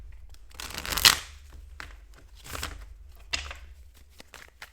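Tarot cards are shuffled close by in three separate bursts of papery riffling and sliding, each swelling briefly and then fading, with quiet gaps between them and no talking.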